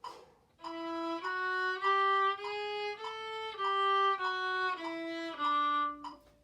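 Violas play a slowed-down passage of sustained bowed notes in a junior high class rehearsal, about ten long tones changing pitch step by step, close and steady with no talking.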